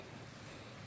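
Steady, faint flowing water in a winter woodland, a continuous low rushing wash with no talk over it.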